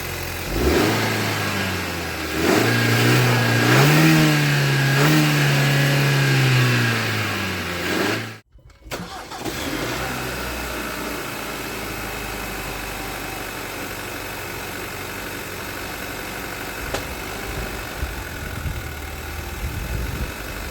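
Truck engine fitted with an AEM air intake revs up and down in rising and falling surges at close range, then after a brief cut settles into a steadier running drone.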